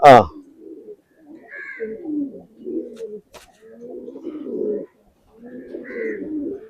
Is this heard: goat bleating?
no